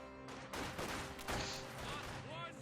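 Sniper gunfire in Company of Heroes 2, a World War II real-time strategy battle, crackles amid a busy mix of distant shots and impacts, with someone talking over much of it.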